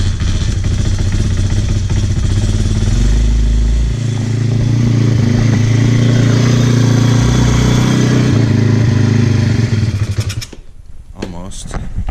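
Motorcycle engine running loud and close for about ten seconds, steady with a surge partway, then cutting off abruptly into quieter clatter; the bike's carburettor float is sticking and leaking fuel.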